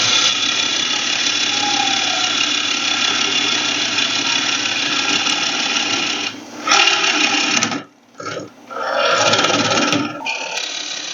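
A gouge cuts into a spinning wooden bowl on a wood lathe during hollowing, a steady close scraping hiss that breaks off in short pauses near the end before resuming.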